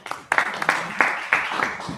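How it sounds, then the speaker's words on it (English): Scattered audience clapping at a Rotary Club of Tyler meeting, a few sharp bursts of claps rising and fading over a couple of seconds in a room, with some voices mixed in. "Y'all don't even know what you're clapping for yet."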